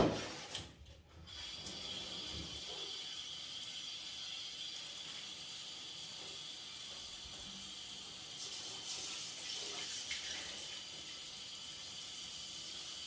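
Water poured during house cleaning by a cleaning professional, a steady close hiss and trickle running continuously after a brief clatter at the start, with no talking.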